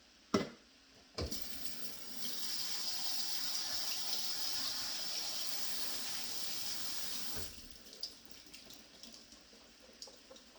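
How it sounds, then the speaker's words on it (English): Tap water runs steadily into a sink as canned cannellini beans are rinsed, a close, even rushing flow lasting several seconds before shutting off, followed by a few small clinks. "I've got some cannelli beans that I'm rinsing off."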